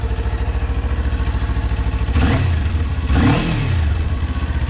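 Stock-exhaust 2021 Kawasaki Ninja 400 motorcycle engine idling steadily close by, then revved twice in quick bursts that rise and fall, with no talking.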